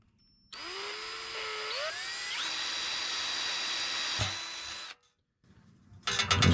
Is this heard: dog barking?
no